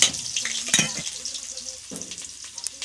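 Sweet potato tops sauté in a pan with a close, crackling sizzle, broken by clattering stirs and a few metallic knocks, with no speech.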